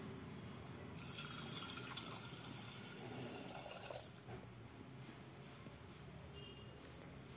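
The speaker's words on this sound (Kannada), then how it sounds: "ಇವಾಗ ನಾವು ಇದಕ್ಕೆ ಸ್ವಲ್ಪ ನೀರು ಹಾಕ್ಕೊಂಡು" Water splashes and pours steadily into a cooking pot for drumstick sambar, a continuous gushing rush that lasts throughout with a brief louder splash midway.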